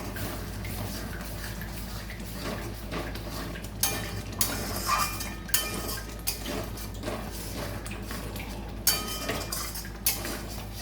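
Masala being stirred and sautéed in a pan for a doi katla fish dish, with intermittent scraping and clinking of a spatula against metal over a low steady hiss.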